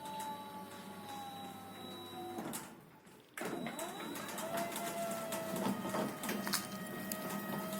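An AN MOTORS ASG 1000 garage gate motor running automatically, a steady mechanical whine and hum with a brief pause, then a rattling restart and continued moving drone with small clicks, moderately close and no talk.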